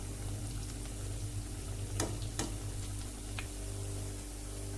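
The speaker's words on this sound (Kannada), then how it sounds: "ಒಂದು ಸ್ವಲ್ಪ ಡೀಪ್ ಫ್ರೈ ಮಾಡಬೇಕು" Slices of bitter gourd masala chips deep frying in hot oil, a steady dense sizzle and bubbling hiss running throughout with a few sharper crackles and pops, close and continuous with no voices.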